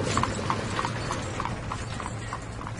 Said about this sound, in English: the king put Elissa on his horse and galloped away to his lovely